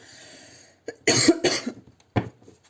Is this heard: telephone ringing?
no